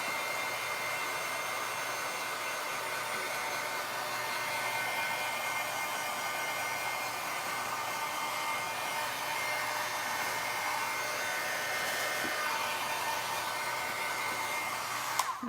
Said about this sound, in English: my heat gun out. Heat gun this a little bit.